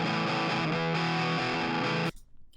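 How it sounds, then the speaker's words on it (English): Heavy distorted electric guitar track from a mix, loud dense chords ringing for about two seconds before cutting off abruptly into near silence. "Guitar left here is a heavy guitar."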